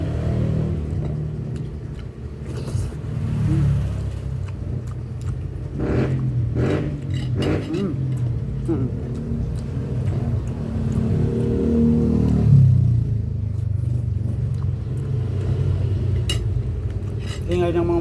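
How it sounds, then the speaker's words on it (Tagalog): Motorcycles passing by along a street: engine drones rise and fall, swelling louder as machines go past, with a busy background of voices and clinking throughout. "Ingay ng mga motor."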